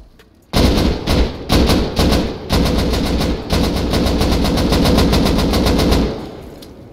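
Rapid bursts of automatic gunfire with explosive ammunition in the game Rust, loud and close, short volleys blending into a sustained rattling stream of shots before stopping.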